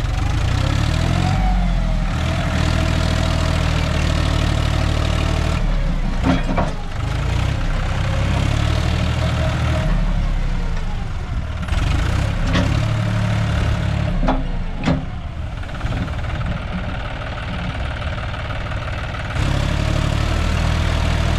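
A John Deere tractor stuck on an uphill dirt road with a soil-loaded trolley idles steadily and loud, a continuous low diesel rumble with a few brief knocks and no talk.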